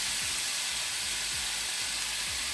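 Shrimp fry in a pan, giving a steady, fairly soft sizzling hiss throughout with low background hum.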